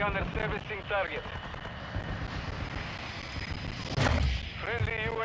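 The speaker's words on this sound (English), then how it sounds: "Friendly chopper gunner servicing target." Chopper gunner killstreak in a military first-person shooter video game firing heavy bursts over a busy match soundscape, with a loud burst near the four-second mark, while game radio voices talk throughout.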